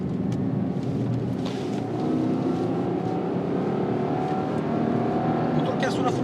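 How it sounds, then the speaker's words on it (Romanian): A new Subaru Outback estate car revs as it accelerates from inside the cabin, with a steady engine rumble that builds slightly and continuous road noise underneath. "Motorul chiar sună frumos."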